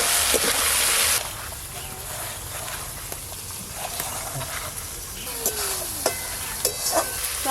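A spatula stirs and scrapes a frying mixture of onion, chili and tomato in a pan, with a steady close sizzle and intermittent knocks against the metal.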